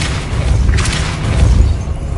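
A Depulso spell cast in Hogwarts Legacy lands as a loud, deep booming rumble with a brief whooshing burst near the start, sustained heavy low-end energy throughout and no talking.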